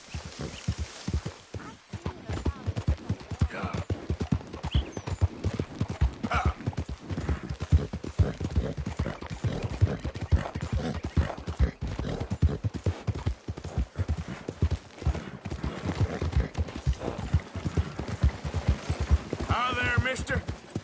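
Horse hooves clip-clop in a steady walking rhythm in Red Dead Redemption 2, close and continuous, with occasional voices in the background.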